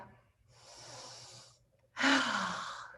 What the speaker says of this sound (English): So take a nice juicy breath.